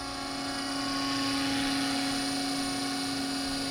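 A scale RC helicopter hovers outdoors, its rotor and motor making a steady, loud whine with a constant buzzing hum and no pauses.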